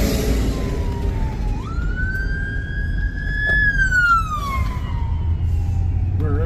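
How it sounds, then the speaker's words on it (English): An emergency vehicle siren on Georgia highway US 41 rises into a loud wail, holds, then falls as the vehicle passes, heard over steady road and engine rumble. "Here comes another emergency vehicle."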